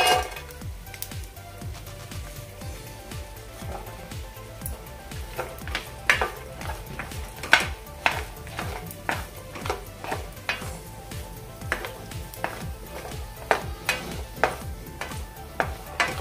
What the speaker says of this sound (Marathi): इथे आपलं तेल गरम झालं, आता यामध्ये आपण पहिल्यांदा खोबरं भाजून घेऊया।